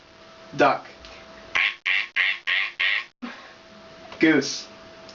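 A girl imitates a duck with a run of about five nasal quack sounds, each short and evenly spaced, between spoken words at close range.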